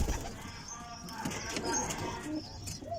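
Pigeons coo softly on a rooftop loft where paired birds are kept for breeding, the low murmuring calls continuing under ambient noise with faint chirps throughout.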